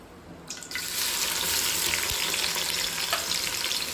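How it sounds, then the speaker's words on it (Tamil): Chopped onions hit hot oil for chicken biryani, setting off a loud, steady sizzle that jumps up within the first second and then crackles on without a break, with no talking. "ஸோ இந்த இப்போ வெங்காயம் ஆட் பண்ணிக்கலாம்."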